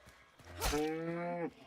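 Cow moo in a competitive video game, a single drawn-out bellow of about a second with a clear harmonic tone, loud and close, standing alone without talk.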